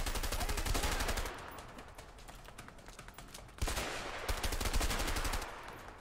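Rapid automatic gunfire from the co-op video game A Way Out, bursts of fast rattling shots, louder at the start and end with a quieter stretch in between.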